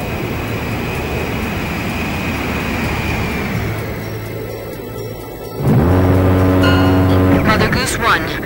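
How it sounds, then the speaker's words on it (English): Transport plane making an emergency landing in the Ace Combat video game, a steady engine roar that swells and grows louder near the end with rising whine and rumble, game music tones layered in. "The transport plane is ready for an emergency landing."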